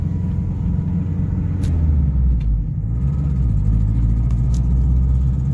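A Subaru Loyale engine rumbles steadily from inside the car while driving, a low, even drone with slight shifts in pitch and no talking.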